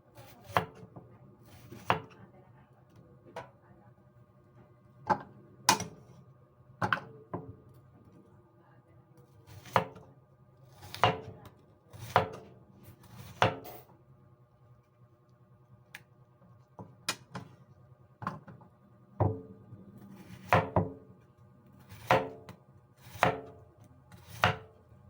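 A knife chops pork into small pieces on a board, sharp irregular thuds repeating every second or so, close and fairly quiet, with no talk.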